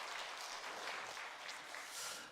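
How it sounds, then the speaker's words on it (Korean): Church congregation applause, a dense, even wash of many hands clapping at moderate volume that holds steady, with no voices. "한번 감사의 박수 한번 드리겠습니다"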